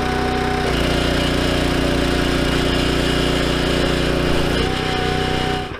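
A 22-ton hydraulic log splitter working on massive pieces of firewood, its engine droning loud and steady throughout while the ram pushes through the wood.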